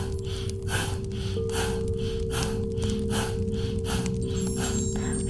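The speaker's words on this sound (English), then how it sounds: "We will inhale and exhale rhythmically through the nose with equal force and speed." Rhythmic nasal breathing exercise, with short forceful inhales and exhales through the nose repeating at an even, quick pace, close and clear over a steady low hum.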